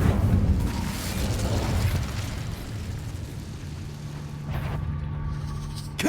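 Incendio fire spell cast in Hogwarts Legacy, a loud rumbling burst of flame that fades into a lingering roar, followed by a brief rattle and a second burst at the end.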